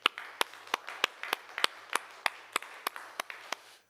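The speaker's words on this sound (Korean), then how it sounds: "수고한 분들에게 우리 한번 힘차게 박수하겠습니다." A church congregation claps for those who cleaned the church during a Korean Sunday service, producing a steady rhythm of about a dozen crisp, evenly spaced unison claps at moderate volume.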